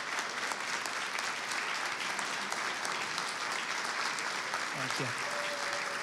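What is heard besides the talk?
audience applause at a lecture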